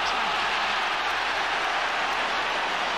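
Stadium crowd at a 2001 Cork v Limerick Munster hurling match roars in a broad, sustained wash of cheering that stays steady and loud throughout.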